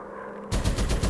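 Quiet hum, then a WW1 fighter plane's machine guns in a video game open up in a loud rapid burst of about five or six closely spaced shots.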